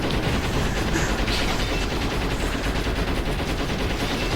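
Rapid, dense gunfire from the video game Shadow the Hedgehog, a continuous loud rattle of overlapping shots with no pauses and no talking over it.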